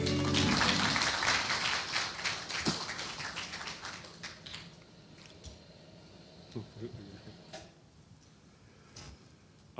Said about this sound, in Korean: 여러분 다시 한번 뜨거운 박수 부탁드립니다.